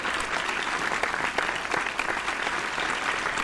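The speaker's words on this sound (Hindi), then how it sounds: "एक बार दोनों हाथ उठा करके तालियां बजाइए" Listeners at a hasya kavi sammelan comedy poetry gathering clap with raised hands, a dense, even wash of applause that holds steady from start to finish without speech.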